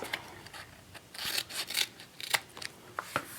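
Scissors trimming the corners of a large handmade album, a few soft close snips and rustling paper strokes, quiet and irregular, with no one talking.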